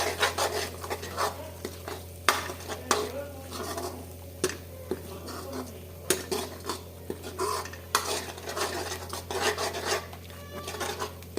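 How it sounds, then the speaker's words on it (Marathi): A utensil scrapes and clinks against a pan while vegetables and spice masala sauté in oil, with irregular stirring strokes and sharp metallic taps throughout and a voice talking faintly now and then. "चांगलं तेलात व्यवस्थित परतून घेते मसाला"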